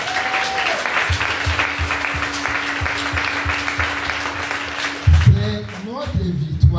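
A congregation applauding during an Ascension Mass, loud steady clapping from a large crowd that fills the room, with a voice speaking over it and a few bright swells near the end.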